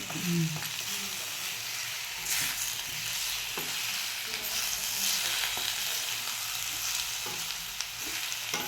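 Sweet potato slices with cardamom powder sizzle and fry in a pan while being stirred, a steady hiss broken by occasional scraping strokes, close and continuous with no talking.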